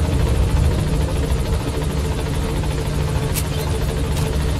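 Helicopter in Metal Gear Solid 5: a steady, loud rotor drone and engine rumble holding unbroken throughout, with faint speech beneath it.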